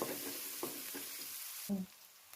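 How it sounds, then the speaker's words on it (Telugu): Onions and green chillies frying in a pan, a continuous close sizzle with a few stirring scrapes and a brief louder knock before the sizzle drops away. "ఫ్రెండ్స్ చూడండి, ఆనియన్స్, పచ్చిమిర్చి బాగా ఫ్రై అయ్యాయి."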